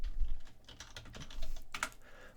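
Quick close-up typing on a computer keyboard while entering Python program input, a brisk run of crisp key clicks with no talk.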